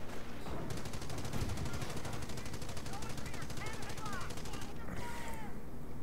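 Machine gun fire in a war video game, a rapid, evenly spaced stream of shots rattling steadily under a dense battle din for several seconds, with faint whistling sounds mixed in.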